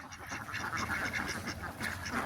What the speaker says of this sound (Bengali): হাঁস আর হাঁস।